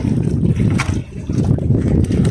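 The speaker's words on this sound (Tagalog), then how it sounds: "kusog ng hangin ah" Strong wind buffets the microphone in a continuous low roar, with brief gusts rising and falling.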